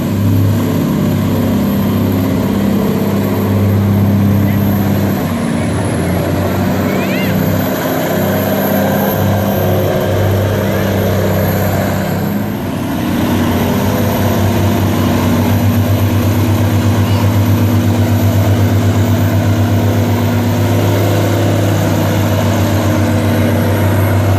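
Two tugboats' powerful engines roar steadily and loudly for a long stretch while towing a heavy pontoon on a river, a deep throbbing drone with the pitch shifting slightly as they rev.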